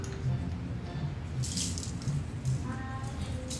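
Hands washed under a running kitchen tap, a steady rush of water with small splashes and drips, close and continuous without talk.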